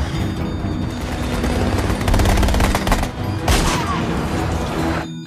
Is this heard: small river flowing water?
no